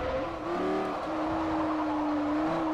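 Yamaha-tuned car exhaust in Forza Motorsport 4 holds a steady, droning rev with a faint rising pitch, loud and continuous with no talk over it.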